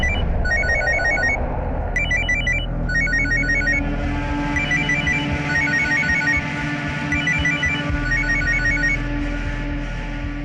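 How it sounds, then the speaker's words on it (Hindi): A phone rings unanswered, its electronic ringing repeating in short regular bursts, loud and close over a low steady background hum. "आरती फोन नहीं उठा रही है, शायद बिजी होगी।"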